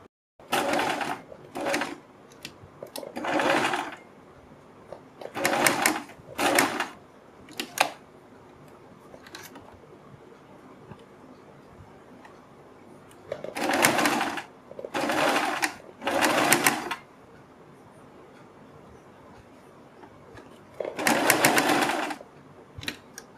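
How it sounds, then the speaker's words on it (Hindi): A sewing machine stitches piping cord onto a kurti neckline in a series of loud, close whirring bursts, each a second or two long, separated by quiet pauses while the fabric is repositioned. "और इसके बाद हम इधर से सिलाई लगानी शुरू करेंगे।"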